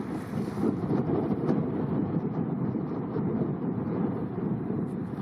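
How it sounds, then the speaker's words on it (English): Strong wind gusts and roars steadily across the microphone outdoors on a backcountry trail in Banff as a thunderstorm approaches, a continuous broadband rush with no voices. "It's getting pretty windy."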